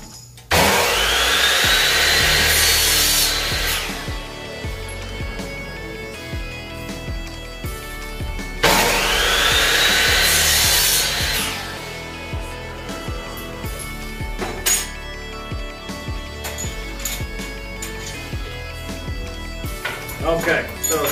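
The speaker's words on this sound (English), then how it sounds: "you want to pull the trigger on the saw, get the saw up to speed, then slowly bring it into the aluminum" A power saw spun up to speed and fed slowly into aluminum for a barn door kitchen island build, giving two loud, high whining cuts of a few seconds each, with workshop clatter and handling noise between them.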